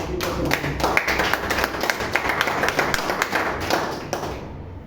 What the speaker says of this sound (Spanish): Damos fuertes aplausos.